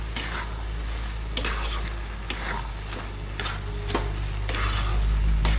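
Cumin and coriander powder are stirred into bottle gourd cooking in a pan, with a spoon scraping in regular strokes over a constant sizzle, close and fairly loud with no talking.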